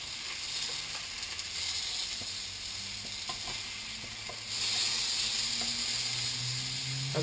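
Tomatoes and eggs frying in a pan give a steady, close, bright sizzle with a few light utensil scrapes, growing louder about halfway through, no one speaking.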